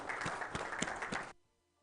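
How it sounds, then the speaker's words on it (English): Brief applause from an audience at a book launch for a medical therapy, steady clapping of moderate loudness that cuts off abruptly into near silence. "Can we have a round of applause, please?"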